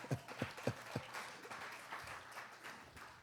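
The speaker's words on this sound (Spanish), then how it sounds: "denle un aplauso a mi traductor." A church congregation applauds the translator, a few distinct claps up front swelling into soft, distant, sustained applause that fades gradually.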